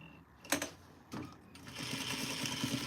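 A home sewing machine understitches a seam on a duster garment, with a couple of short whirring bursts followed by a steadier stretch of stitching at close range.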